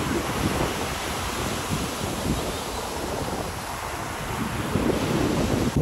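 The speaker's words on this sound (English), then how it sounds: "They're definitely bigger waves than the one in Waikiki." Surf at Bellows Beach on Oahu rolls in as a continuous loud roar of breaking ocean waves, with gusty wind buffeting the microphone throughout and no voices.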